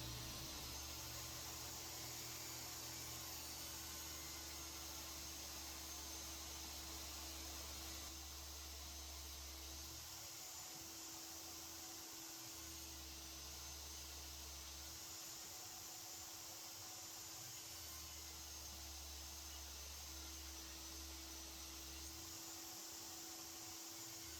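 A router on a router table cuts a groove in wood pieces with a loud, constant high-pitched whine, while a lower grinding tone comes and goes in separate passes, each several seconds long, with no speech.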